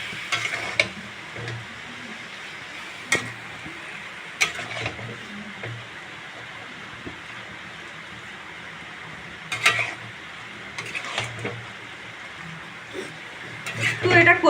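Taro leaves (kochu shak) being stirred in a pan with coconut, giving a soft steady sizzle with scattered scrapes and clinks of a spoon against the pan, close by with no talk.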